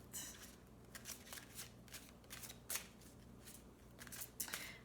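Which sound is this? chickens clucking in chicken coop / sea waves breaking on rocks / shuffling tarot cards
shuffling tarot cards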